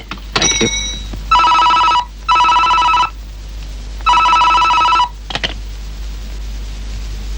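An old-style telephone rings in three long electronic bursts with pauses between, framed by sharp clicks and a short tone at the start.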